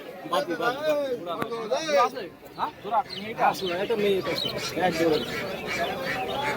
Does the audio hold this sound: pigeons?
yes